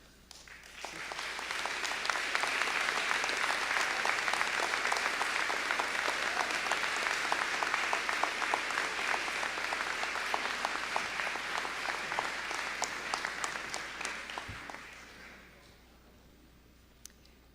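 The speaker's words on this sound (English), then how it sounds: "Please hold your applause until all the graduates' names have been called." Sustained applause from a graduation ceremony audience as degree recipients stand to be recognized, a dense, steady wash of many hands that swells in over the first seconds, holds loud, then fades out near the end.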